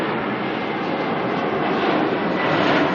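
An Airbus A321neo airliner arriving at Auckland Airport from Dunedin produces a steady, broad engine roar that builds slightly toward the end, continuous and fairly near, with no voices.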